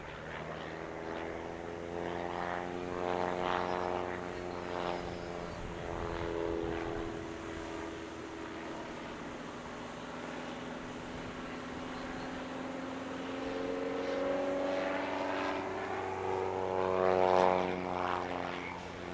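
A Stearman biplane with a propeller engine flies low over a California airshow, its steady drone rising and falling in pitch as it passes close by, loud throughout and swelling again near the end.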